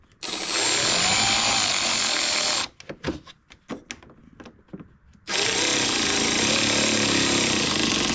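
A Milwaukee power drill drives screws while LED sidemarkers are fitted on a 2022 Dodge Charger widebody, running in two long, loud, steady whirs with a burst of short clicks and knocks in between.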